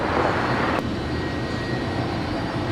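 An American Airlines jet departs LAX for New York, a steady loud engine roar with a broad rushing hiss holding throughout the short moment.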